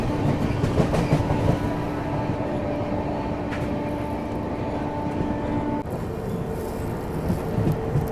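The Mumbai Indore Duronto Express runs near Nagda Junction, heard from on board as a steady, loud rumble with a sustained tonal hum and faint clicks from the wheels, with no voices.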